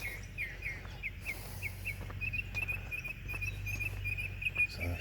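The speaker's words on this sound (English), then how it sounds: "There's that one bird, it's up there right now that sings a lot." A bird sings repeatedly in a garden yard, a series of thin, high chirps and trills repeating steadily at moderate distance over a low background hum and soft outdoor patter.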